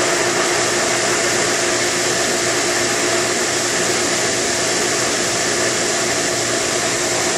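A pool pump runs with air drawn in through an ozone venturi injector on the suction side, giving a steady, loud broadband whooshing hum that holds unchanged throughout with no speech.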